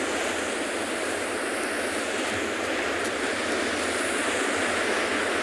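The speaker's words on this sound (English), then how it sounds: "some fairly big waves coming in." Big ocean waves break against wild rocks on a penguin beach, a constant, dense wash of surf roar heard at moderate level without clear individual crashes and with no voices.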